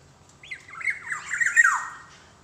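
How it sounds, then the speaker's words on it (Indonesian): A black-naped oriole gives a single loud, nasal squawking call that rises, wavers and then sweeps downward over about two seconds, close and clear against quiet surroundings. "Ini burung podang yang selalu bunyi."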